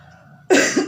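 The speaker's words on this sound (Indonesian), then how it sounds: "Maaf ya, saya batuk." A single sharp, loud cough bursts out close by, followed a moment later by a shorter second cough, after a quiet room hum.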